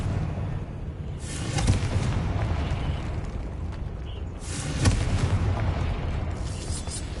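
Confringo blasting spell explosions in the Hogwarts Legacy video game, two heavy booming blasts a few seconds apart over a rumbling, crackling background of magical combat.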